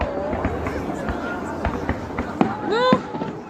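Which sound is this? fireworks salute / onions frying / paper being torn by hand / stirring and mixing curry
fireworks salute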